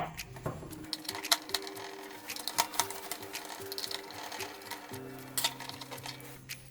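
A small screwdriver or power driver works screws out of the pivot shaft on a smart toilet, giving a steady whirring hum with light clicks and ticks, close by and without talk.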